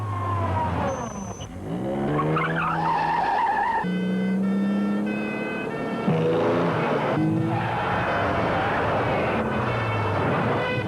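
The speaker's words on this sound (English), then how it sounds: "He's really throwing his car around these corners now." A Jaguar Mark 2 flung hard through corners in a car chase, its tyres squealing and skidding in long wavering shrieks over a revving engine, loud and close, with no talking.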